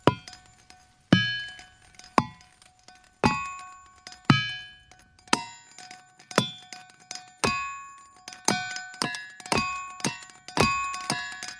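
A series of sharp metallic hammer strikes on ringing boulders, each ringing out with bright, chime-like tones that decay, coming faster and overlapping toward the end.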